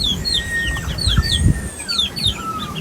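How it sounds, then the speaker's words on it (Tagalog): Young chickens raised in a pen chirp and peep in a steady stream of high calls, with a few low clucks and shuffling thuds nearby. "Yan po ang mga manok po di Bossing. Pinapalaki pa."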